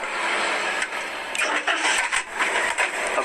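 A Daihatsu Ayla automatic car, parked in P, starts up: a brief cranking burst, then the engine catches and settles into uneven mid-pitched running with repeated surges, close to the cabin.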